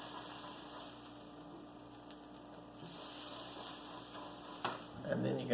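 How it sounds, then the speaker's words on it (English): Butter sizzles on a hot griddle with a steady soft hiss, fairly quiet and close, with a few light scrapes and clinks near the end. "You get a little bit of butter on the griddle."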